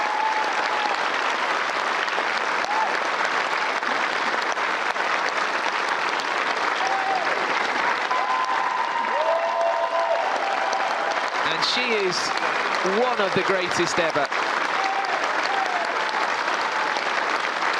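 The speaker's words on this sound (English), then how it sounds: "Standing ovation from the crowd." Wimbledon crowd rising in a standing ovation after a Grand Slam singles final, sustained dense applause throughout with a commentator's voice and some cheering rising over it.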